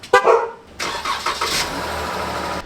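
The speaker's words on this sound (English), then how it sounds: "you hit the remote start button" A short beep-like chirp, then a Jeep Grand Cherokee Overland's engine cranks on remote start and catches, settling into a steady idle nearby.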